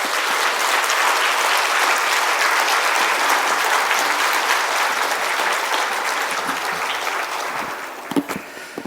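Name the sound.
congregation applause welcoming pastor in church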